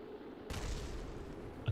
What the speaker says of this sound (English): Okay, I just heard an explosion.